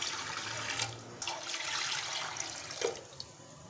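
Water is poured into a pressure cooker holding chickpeas, a close, continuous splashing stream that rises and falls in bursts, with no voice over it.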